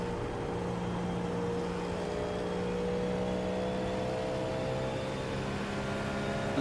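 Acura GTP race car engine in the iRacing sim, a steady, loud mechanical drone with rich, sustained tonal layers and gentle pitch shifts as it holds revs, with no voices over it.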